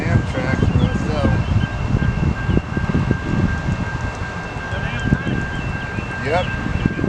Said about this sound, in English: Our last train at Austell will be the Amtrak Crescent, headed to New Orleans.